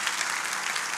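Audience applause at a church lecture: a brief, continuous burst of dense clapping from a crowd, loud and even with no gaps or voices.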